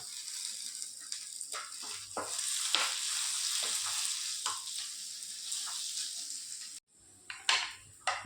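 Ginger garlic paste fries in a pan for vegetable kurma, a faint continuous sizzle broken by repeated clinks and scrapes of a spoon stirring against the pan.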